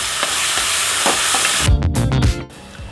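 Ground spice paste sautés in a hot pan for thuthuvalai kulambu, giving a loud, steady sizzle broken by a few scraping stirs near the end before the frying dies down.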